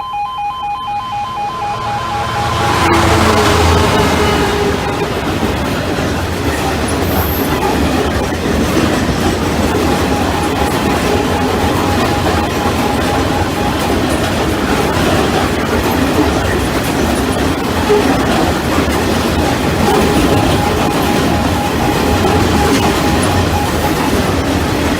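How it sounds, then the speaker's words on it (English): A train roars through the level crossing at Hykeham, a loud sustained rumble with rhythmic wheel clatter while the crossing's warning tones sound beneath it. "Warning, another train is approaching."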